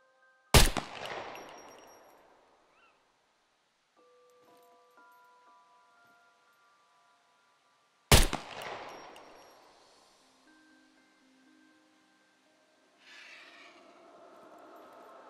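Two sharp, loud gunshots fired in the video game Scum, several seconds apart, each with a ringing metallic decay, followed by faint clinks and a soft rustling movement sound near the end.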